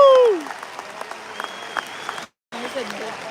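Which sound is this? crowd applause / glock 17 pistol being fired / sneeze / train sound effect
crowd applause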